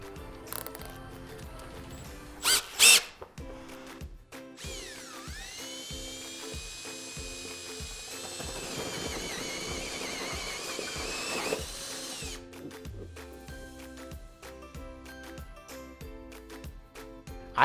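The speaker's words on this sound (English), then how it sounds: "the next thing I want to do is actually cut a new hole where the fan box is going to be" A power tool whines steadily as it cuts a hole in a ceiling for a fan box, its pitch sagging and recovering under load, with a few sharp clicks near the start and no speech.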